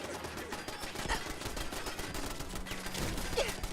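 Gunfire in the video game Fallout 4: a dense, steady run of rapid shots filling the whole stretch at even loudness, with no talk over it.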